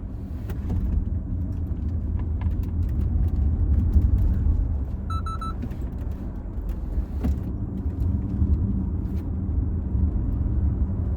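A 2022 Audi e-tron S tri-motor electric SUV weighing about 2.8 tonnes sweeps through a corner, giving a steady, loud low rumble of road and tyre noise from inside the cabin, with no voices.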